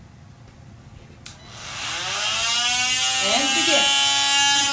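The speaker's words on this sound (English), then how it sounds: "But in order to get it to its natural wood state, you have to now go to a 120. The sander at a 120." An electric sander fitted with 120-grit paper starts up on wooden stairs, a switch click followed by a rising whine that settles into a loud, steady buzzing drone while a person speaks briefly at the start.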